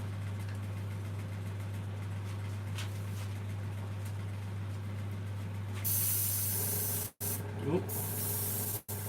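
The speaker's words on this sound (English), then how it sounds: "I'll just add some more paints in here. Like I say, this is a practice piece, it'll all be coming off tomorrow anyway. I like that one with the airbrush." An airbrush sprays paint onto a practice piece, with short hissing bursts near the end over a steady low hum. A person gives a brief exclamation.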